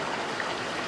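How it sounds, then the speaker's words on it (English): Steady rushing water spills over the weirs of a round 75-foot wastewater treatment tank, a continuous dense outdoor wash with no pauses. "we have water going over the weirs"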